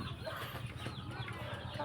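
A fighting rooster clucks softly and repeatedly at close range, with low murmuring fowl sounds running steadily through the whole stretch, no talking heard.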